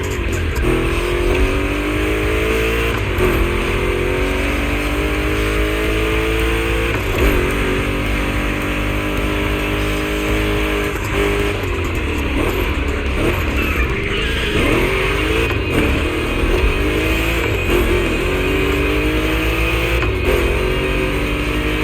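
Two Chevrolet big-block race cars roar through a gymkhana course in The Crew Motorfest, a steady loud engine drone with rising and falling revs and harmonic sweeps running throughout, no talking.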